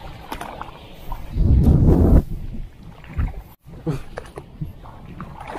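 Strong gusts of wind buffet the microphone outdoors at a waterside fishing spot for snakehead, coming in heavy low-pitched rumbling bursts, loudest around the middle, with brief lulls between gusts.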